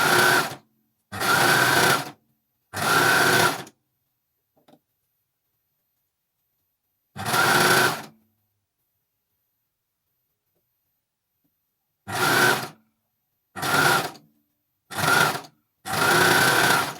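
A coverstitch machine fitted with a double fold binder sews binding onto a garment's neckline and armholes in short close bursts of whirring stitching, separated by silent pauses, with a brief mechanical click in one gap.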